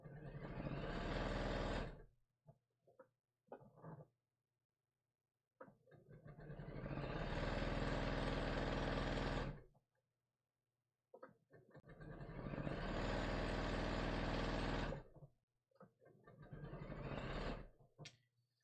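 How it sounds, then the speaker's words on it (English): A serger sewing machine stitches a skirt onto a sundress bodice in bursts, a loud rapid whirring hum that starts and stops several times with short quiet pauses and light handling noises between runs. "I'm going to serge the skirt onto the bodice"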